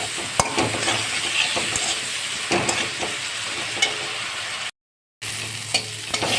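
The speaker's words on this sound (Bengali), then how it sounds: "এবার এটাকে ভালো করে এর সঙ্গে একটু নাড়িয়ে চাড়িয়ে দেবো।" Potatoes with spices and a little water are stirred in a frying pan, with a spoon scraping and clinking against the pan over a continuous sizzle and a short break in the sound near the end.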